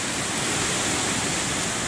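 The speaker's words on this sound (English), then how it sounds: "strong gust." Strong hurricane wind gust in north central Florida, a loud, dense roaring rush of broadband noise that stays steady and close throughout, with no voices.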